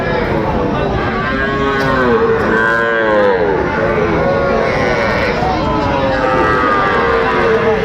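Young bulls and calves at a Dhaka livestock market moo again and again, long close calls overlapping one another above a steady crowd murmur and voices.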